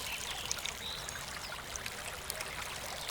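Tap water runs steadily during Islamic ablution (wudu), a continuous close trickle and splash with no talk over it.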